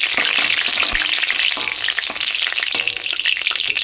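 Finely chopped garlic fries in a pan with a loud, constant sizzle, while a utensil stirs it with regular scraping strokes.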